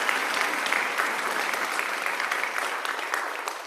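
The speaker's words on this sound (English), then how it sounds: "Can we give them a round of applause?" A church congregation applauds during a Sunday service, producing dense, sustained clapping that fills the room at an even level.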